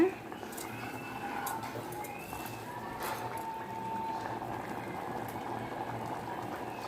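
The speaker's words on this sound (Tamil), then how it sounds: "பாருங்கள் எந்த அளவுக்கு கொதிக்குதுன்னு." A pot of Ponni rice boils vigorously in water, a continuous close bubbling roar with small pops throughout.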